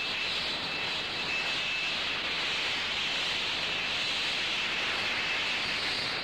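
Hawker P1127 jet aircraft with Pegasus engines flying overhead, giving a steady, loud broadband roar and hiss with a faint whine that holds constant throughout, with no talk.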